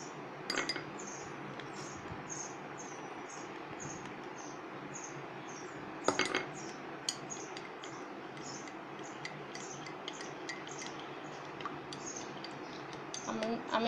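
A spoon stirs hot chocolate milk in a cup, making a long run of light, fairly regular clinks and taps against the rim, with faint talking now and then.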